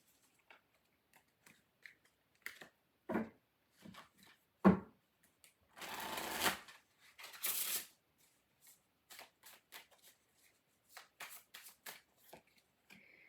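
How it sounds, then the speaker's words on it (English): A Revelations Tarot deck is shuffled by hand in a quiet room, giving soft scattered card riffles and taps, then two longer riffling bursts, all close and fairly faint with no talk. "let me get you 3 cards from the Revelations Tarot. This deck does have reversals in it."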